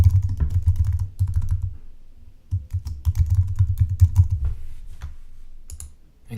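A name typed on a computer keyboard, bursts of quick, close clicking keystrokes with short pauses between words over a low background hum.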